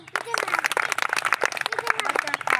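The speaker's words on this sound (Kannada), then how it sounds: "ಚಪ್ಪಾಳೆ ಹಾಕ್ರ" Children clapping their hands during a counting and clapping game, scattered quick claps under an adult's voice speaking over them.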